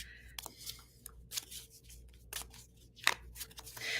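A deck of playing cards is riffled and shuffled in a series of quick, crisp bursts of flicking and snapping, close by and fairly quiet over a low background hum.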